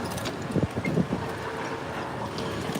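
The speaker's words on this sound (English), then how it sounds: "Super windy." Wind buffets the microphone in a steady low rumble outdoors at a cafe in Flagler Beach, with a few stronger gusts thumping early on.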